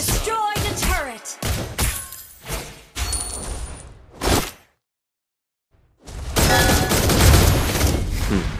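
Granger's gunfire in Mobile Legends comes as a string of sharp, loud bursts with shattering impacts. A brief silence breaks the string, and a dense barrage follows, mixed with game effects.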